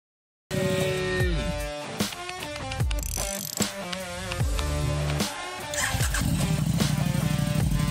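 A stunt motorcycle drifts with a loud, continuous engine roar whose revving rises and falls throughout, close and dominant, with music-like tonal layers blended in and no speech.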